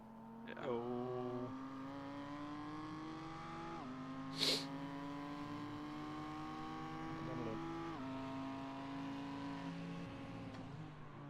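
Mercedes race car engines in the iRacing simulator during a 24-hour Nürburgring race, a steady rising and falling engine drone with gear shifts, several cars' tones overlapping, one brief sharp burst midway.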